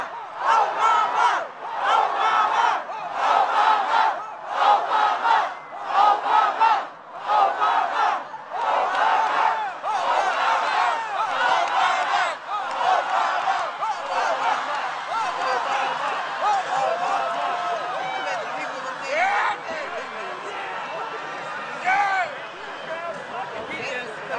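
A large crowd at Barack Obama's inauguration chants in loud rhythmic bursts, the repeated shouts later blurring into a continuous roar of many voices outdoors.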